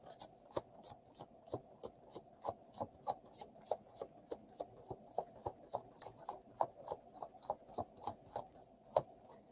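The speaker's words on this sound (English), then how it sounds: "That was a good shuffle." Tarot cards being shuffled at a live reading, a run of crisp rhythmic riffling snaps, about two to three per second, close and fairly quiet over near silence.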